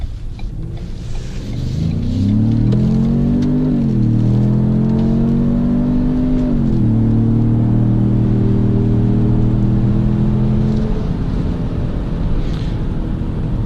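A 2017 Ford Edge Sport SUV accelerates hard in sport mode, its engine note climbing steadily in pitch with a few brief dips at shifts, loud and continuous from start to finish, with no talking.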